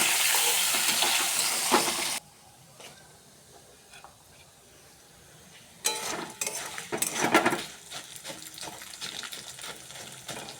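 Rice going into a pan with dried chilli and bay leaf sets off a loud hiss that quickly drops to a soft crackle. A stirred sizzle then returns with scraping and clatter from the pan.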